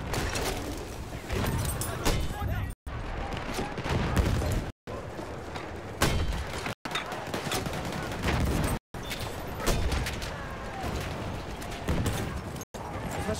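Dense gunfire in the World War I shooter game Battlefield 1, rapid automatic bursts and a fusillade of shots running almost continuously, cut by brief gaps, with voices shouting over the fighting.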